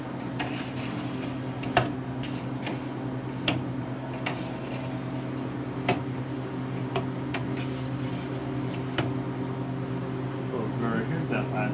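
A Harvest Right freeze dryer hums steadily while it cools its vacuum chamber, with scattered clicks and ticks in the room.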